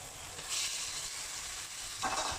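Long eggplant stir-frying over high heat in a pan with a little water, a steady broadband sizzle that swells briefly when more is added, close and continuous with no talk.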